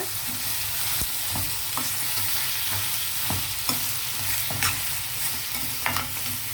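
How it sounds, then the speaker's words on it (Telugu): Chicken pieces sizzle and fry in a hot pan while being stirred for gongura chicken, with steady crackling and intermittent scraping clicks from the spoon, close and fairly loud, no voices. "ఒకసారి బాగా కలుపుదాము చికెన్ వేసిన తర్వాత"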